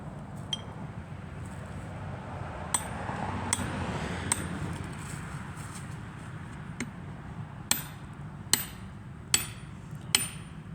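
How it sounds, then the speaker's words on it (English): Red oak firewood being split outdoors, a quiet bed of background noise broken by sharp, distinct knocks and whacks, with a run of four evenly spaced loud strikes near the end. "I think he's going to split the firewood before he cuts it."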